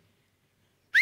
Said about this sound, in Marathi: ही शिट्टी होती आपल्या टीमसाठी